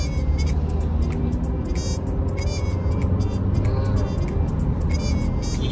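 Steady in-cabin drone of a BMW 320d F30 diesel sedan cruising in sport mode, with road and engine rumble throughout and faint ticking clicks over it, a constant level and no talk.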